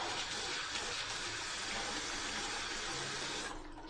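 Water runs from a tap into a sink needing repair, a steady, close hiss and splash that holds evenly before dropping off sharply near the end, with no talking.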